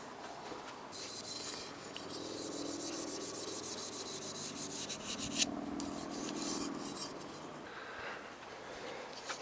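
A razor blade scrapes old butyl sealant off anodized aluminum trim from a 1971 Mach 1, giving close, raspy scraping strokes in bursts with short pauses between.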